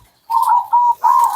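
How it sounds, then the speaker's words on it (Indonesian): Zebra dove (perkutut) cooing, three clear close notes in quick succession, the last slightly longer, with no other sound around them. "Di sini ada berbagai jenis burung perkutut."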